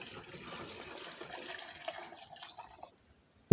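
Water trickles and splashes steadily from a rainwater catchment, a soft continuous pour that stops abruptly near the end.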